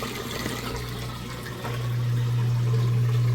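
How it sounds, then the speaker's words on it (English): An Amana washing machine drains water at the end of its wash cycle, a loud steady rush of water joined halfway through by a strong, even pump hum that continues to the end, with no talking. "Draining that water out nice and fast."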